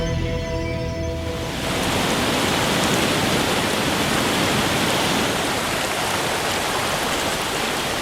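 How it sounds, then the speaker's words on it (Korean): A mountain waterfall high in the Andes roars as a loud, steady, broadband rush of falling water that swells in within the first couple of seconds and then holds constant, with no voices. "수천 미터의 산 위에서는 장엄한 폭포수가 장관을 이룬다"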